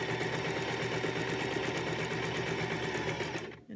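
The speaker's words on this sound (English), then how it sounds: "sew down this side" A sewing machine runs steadily while stitching a cloth face mask, a continuous loud mechanical whir close by that stops abruptly at the end.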